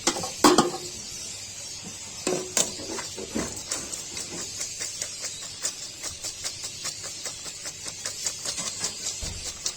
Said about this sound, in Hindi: फिर आहिस्ता आहिस्ता हम इसको अब ये सारे चावलों में मिलाएंगे